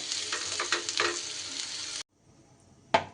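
Jackfruit stir-frying in a pan gives a loud, dense sizzle for about two seconds, then cuts off almost to silence before one short, sharp burst of sizzling near the end.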